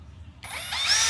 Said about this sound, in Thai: เสร็จแล้วมาเจาะรู ปึ๊บ